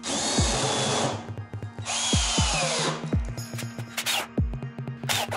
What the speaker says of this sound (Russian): Крепим по краям сверлом, зенкером и саморезом.